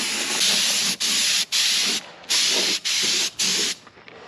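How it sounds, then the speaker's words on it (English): A spray gun lays the final coat of paint on a 1939 Caterpillar D4 tractor in close, loud hissing bursts. The bursts come one after another with short pauses as the trigger is released. "This is our last coat of paint on all of this stuff."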